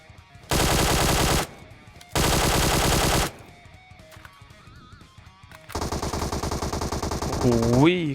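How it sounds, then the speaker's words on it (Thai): Sustained automatic gunfire from a PUBG Mobile match, three loud bursts of about a second each, the last one longer and mixed with other game sounds. "ไม่รู้เขายิงกับบ้านไหนนะเนี่ย"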